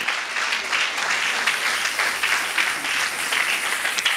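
A church congregation applauds during a French-language service, producing dense, continuous clapping from many hands that fills the room with steady, moderately loud sound.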